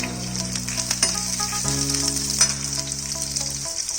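Onions and garlic sizzle steadily in hot oil for a soup demonstration, a dense continuous frying hiss close up with faint stirring clinks and a low background hum throughout.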